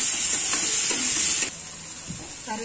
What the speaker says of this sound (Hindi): इसको हम अच्छी तरह से 2 मिनट तक भून लेंगे